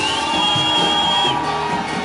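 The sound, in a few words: congregation giving a loud shout of joy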